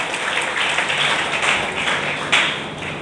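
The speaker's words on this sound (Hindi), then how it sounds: "चलिए, तालियां बजती रहनी चाहिए।" A dense crowd keeps clapping at a NEET-2022 student ceremony. The applause is steady and fairly close, with one sharper burst near the end.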